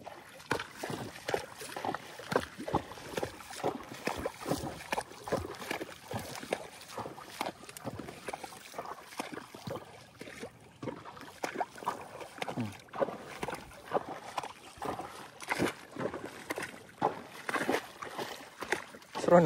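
Rocky the horse paws and splashes in a ditch of water, giving repeated irregular splashes and sloshes close by, with someone talking over them.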